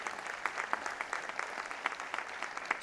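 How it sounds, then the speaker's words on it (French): Sustained applause from a crowd at a French graduation ceremony, steady dense clapping with brief louder claps, moderately distant and alone without talk. "On peut applaudir très fort cette belle réalisation."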